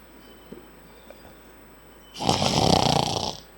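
A voice imitates snoring during a spoken Q&A session, producing one loud, rasping snore lasting over a second after a quiet stretch.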